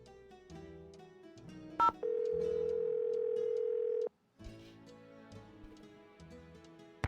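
A phone in the Nancy Drew game Curse of Blackmoor Manor, with a short beep, then a loud steady dial tone lasting about two seconds that cuts off abruptly, set among quiet game music.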